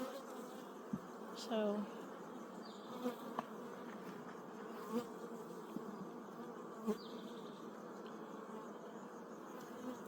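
Honeybees buzz steadily at an open hive during a frame inspection in the brood box of hive number 4, a close, continuous insect drone with a few brief knocks and a short spoken word.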